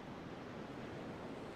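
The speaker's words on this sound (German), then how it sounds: "Die Wellen sahen aus wie schäumende weiße Pferde, die der weit entfernten Küste mit aller Kraft entgegengaloppierten." Sea waves crash and surge in a steady, soft wash of surf, faint and continuous, with no voices.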